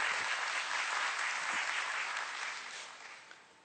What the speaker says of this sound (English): big round of applause to all the 4 promoters of Padium